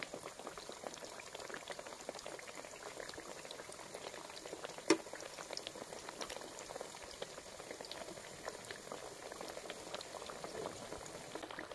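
Eggplant pakoras deep frying in oil, a steady low bubbling crackle throughout with one sharp knock partway, no talking.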